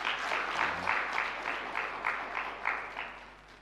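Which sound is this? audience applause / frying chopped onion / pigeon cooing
audience applause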